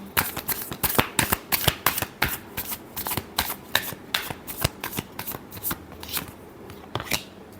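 Tarot cards shuffled by hand in quick repeated riffles, a dense run of sharp crisp snaps and flutters close to the microphone, with no voices.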